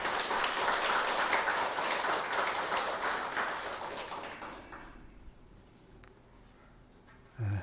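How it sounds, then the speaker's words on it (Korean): A church congregation at a Sunday worship service claps in sustained applause for several seconds, then it fades to a quiet room with a final soft knock. "우리 하나님께 감사와 영광의 박수 올려드리겠습니다."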